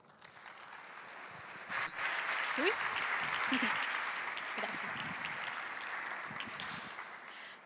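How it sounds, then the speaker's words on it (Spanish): Indoor evening science-talk audience gives a welcoming round of applause, steady clapping that swells then holds, with a brief sharp spike near the start and a short spoken thanks over it. "Le damos un fuerte aplauso."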